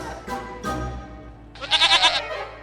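A violin is played badly: a few scratchy, wavering bowed notes sound near and loud, the last one bleating and quavering like a goat.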